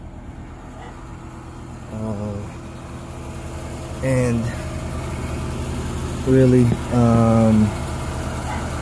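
A 1994 Acura Vigor idles with its S pipe exhaust section reinstalled, a steady low engine hum running throughout while someone talks over it in several short bursts.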